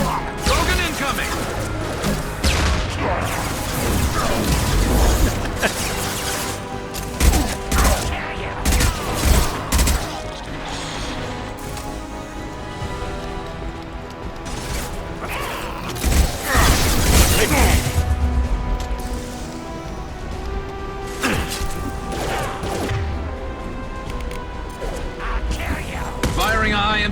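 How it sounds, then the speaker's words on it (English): Rapid high-impact gunfire and crashing blasts fill a Mass Effect 2 firefight, with bursts of shots coming in dense waves over a busy mix of effects and voices. "Firing a high impact shot."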